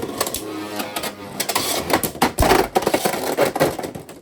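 Beyblade X tops are launched into a stadium and battle, giving sharp plastic clacks, scraping spins and repeated hard collisions in irregular bursts, close and loud, with brief voice.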